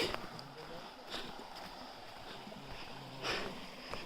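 A forest river flows gently with a soft, steady wash of water, quiet and continuous, with a few brief brighter splashes or rustles rising from it.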